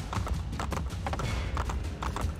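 Horse hooves gallop in the Assassin's Creed Brotherhood video game, a quick rhythmic clip-clop run that stays fairly close and even over a short stretch.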